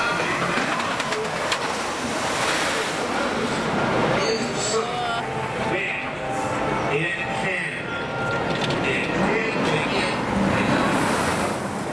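An empty Stealth roller coaster train at Thorpe Park thunders past as a steady, loud rumble with rail noise filling the whole stretch, while voices talk over it.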